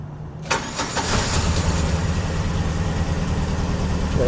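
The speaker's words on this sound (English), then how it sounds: "So now we're going to restart the engine." A Chevrolet Cavalier with a misfire fault cranks with a quick run of starter beats, then fires and settles into a loud, steady idle close by, with no talking.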